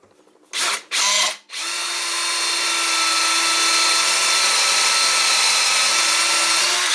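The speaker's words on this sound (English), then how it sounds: "I'm going to drill the hole through both" Power drill boring a hole through an aluminium bracket, two short bursts of the motor, then a steady high whine that rises slightly as the bit bites, close and loud, with no voices.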